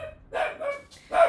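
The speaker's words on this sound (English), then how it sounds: "my dog is now barking" A dog barks indoors, giving three sharp barks at a steady pace at close range, with nothing else heard around them.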